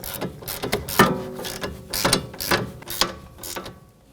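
A ratchet socket wrench on a 15mm socket clicks in uneven back-and-forth strokes while tightening a sway bar link nut on a 2011-2018 Volvo S60, close and metallic, with a wrench braced on the other side.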